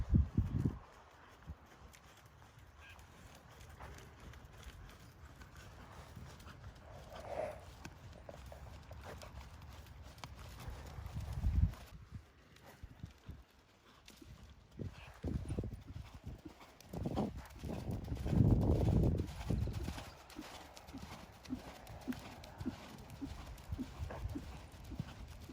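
A horse canters during a dressage schooling session, hoofbeats thudding in rhythmic bursts on the arena surface, sometimes near and louder, sometimes fading, with faint background rustle.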